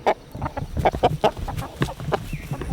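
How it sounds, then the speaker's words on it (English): Chickens cluck in short, scattered bursts close by, a lively run of soft clucks with no other sounds. "they're scratching, they're pecking, they're being chickens"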